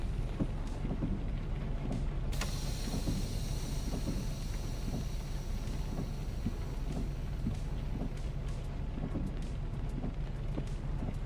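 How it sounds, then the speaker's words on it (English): The air parking brake is set on a truck in American Truck Simulator: after a low idling rumble, a sudden sharp burst of air begins and trails into a steady hiss that lasts to the end. "I'll put the parking brake."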